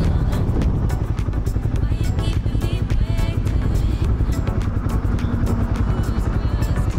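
A Hero Maverick 440 motorcycle rides over a rough, rocky road, its engine droning steadily and close amid wind and rattling noise for the whole stretch.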